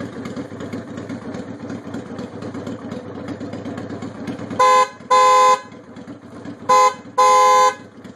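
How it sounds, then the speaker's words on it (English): Freeway Blasters aftermarket car horns sound four loud harmonic blasts, two pairs of short toots over a steadily idling engine, close and alone without talk. "I just put a new pair of horns on yesterday, the Freeway Blasters, just see what they sound like"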